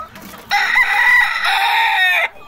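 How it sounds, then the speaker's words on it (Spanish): A single loud, close crow from a breeding gamecock rooster rings out for under two seconds, alone and clear. "Los 5 gallos que estoy padreando"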